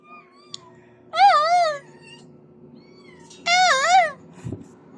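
Two drawn-out, wavering meows from hungry cats begging for food, each about half a second long and fairly close, with a soft thump near the end and quiet room noise between the calls.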